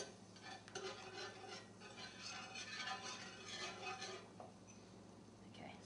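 Flour is stirred into melted butter in a pot for a mac and cheese white sauce, a soft continuous scraping and swishing of the spoon against the pot with a faint low hum beneath.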